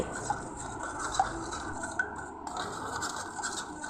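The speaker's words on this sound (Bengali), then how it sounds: "চামচটাকে নিয়ে বেশ ভালো করে ঘাঁটিয়ে কিন্তু মেখে নিতে হবে" A spoon stirs and rubs through spices and oil for green mango pickle, a steady close scraping and squelching with a few light clinks against the bowl, no voices.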